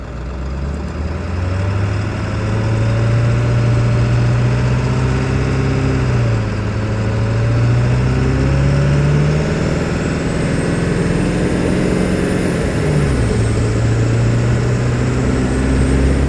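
A Ford 7.3 Powerstroke diesel truck engine pulls at half throttle, a loud steady drone whose pitch climbs through gear shifts, dipping and rising again over sustained acceleration.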